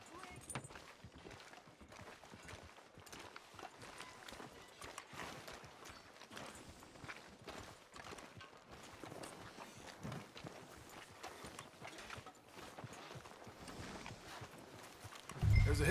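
Steady clip-clop of horse hooves at a trot in the video game Red Dead Redemption 2 runs throughout, with voices talking over it and a louder thump near the end.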